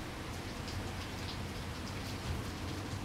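Steady rain falls on a dark night in the Everhood video game, a constant soft patter and hiss of drops with a low rumble beneath, even and unbroken, with no talking.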